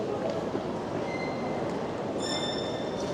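Trains in the hall of Paris Gare de Lyon station, a broad rumbling rail noise with high wheel squeals rising near the end. The sound is moderately loud and continuous, with no clear voices.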